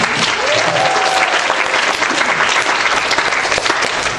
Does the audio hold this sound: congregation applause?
yes